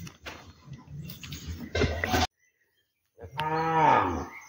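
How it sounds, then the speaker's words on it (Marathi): A cow near a public well in a village gives two loud, drawn-out moos, the second rising and strong after a short silent gap. "इकडे गाय आहे."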